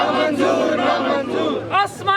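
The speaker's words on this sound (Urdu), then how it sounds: "مسیحی برادری نے جناوالا واقعے کے خلاف نعرے بازی کی" A Christian community crowd at a protest in Landi Kotal bazaar chants slogans loudly in unison, with rising shouted calls toward the end.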